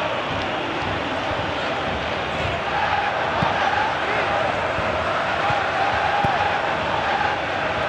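Stadium crowd noise from a football video game match between Mexico and Colombia, a steady, dense roar of cheering that swells slightly toward the middle, with commentary voices over it.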